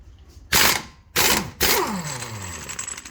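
A ratchet wrench cranks on the 1 7/16 axle nut of a 2006 Honda Civic Si, giving three loud bursts of rapid clicking close up, each followed by a ringing metallic tail.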